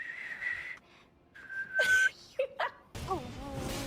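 A tapir's whistling call from a video game sounds in a few short high piping bursts separated by pauses, fairly faint, with breathy vocal sounds near the end.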